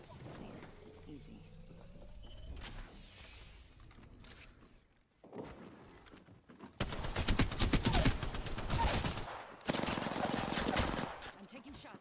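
Rapid automatic gunfire in a battle royale video game, first distant and thin under speech, then loud sustained bursts of shots in the second half.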